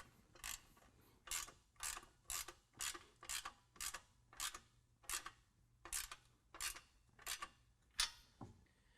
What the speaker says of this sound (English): Once you have that, you can go ahead and snug up your band clamp.